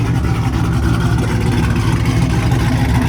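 A V8 car engine running with a suspected fault, a loud, steady low rumble and drone held close throughout with no break.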